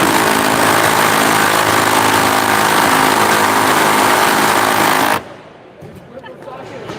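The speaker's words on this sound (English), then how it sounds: "an aggressive application where you're doing loosening a stubborn bolt at a maximum angle" Milwaukee power tool loosening a stubborn bolt at maximum angle, a loud continuous mechanical grinding and rattling jam that cuts off abruptly near the end, leaving quieter background noise.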